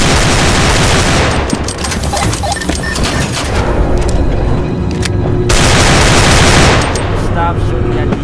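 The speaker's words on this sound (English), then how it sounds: "Stop shooting at me." Automatic gunfire from the SCP: Containment Breach multiplayer mod, loud and dense, with bursts rattling nearly nonstop across the whole stretch and a brief easing in the middle before it surges again.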